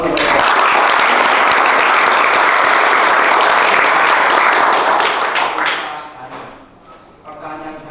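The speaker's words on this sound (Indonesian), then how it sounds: "Kita beri tepuk tangan untuk mereka." Loud, dense applause from an audience after a student research presentation in Indonesia. It holds steady for about five seconds, then thins and fades to scattered claps near the end.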